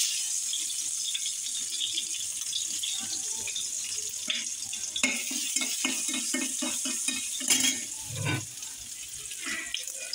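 Spices sizzle in hot oil in a kadai as a tempering for dal, a steady hiss beneath repeated clinks and scraping of a stirring utensil, fairly close.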